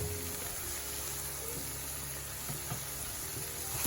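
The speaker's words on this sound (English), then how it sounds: "So right now I have my browning, I have my ketchup, along with my vegetables sauteing away." Vegetables with ketchup and browning sautéing in a pan for Jamaican brown stew fish, a steady close sizzle and gentle bubbling running evenly throughout with a few soft stirring clicks.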